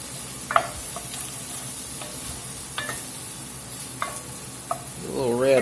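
Beef short rib ragu with garlic sizzling in a pan: a steady close frying hiss with occasional utensil clinks and stirring scrapes, ending in a brief squeaky swell; nobody speaks.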